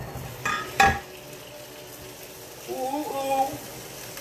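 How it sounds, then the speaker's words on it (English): Lemon parmesan chicken softly sizzles and hisses in a frying pan under a couple of clinks of utensils, with a voice briefly exclaiming. "y'all hear that sizzle?"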